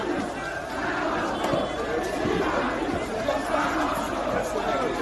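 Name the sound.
protest crowd chatter at Lungi Airport entrance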